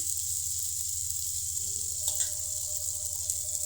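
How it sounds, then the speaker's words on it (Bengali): Onions frying in oil in a pan for potato chops, a steady soft sizzle with a low rhythmic hum beneath and a few faint clinks, no talking. "আমি চপের পেঁয়াজটা ভালো করে ভেজে নিচ্ছি।"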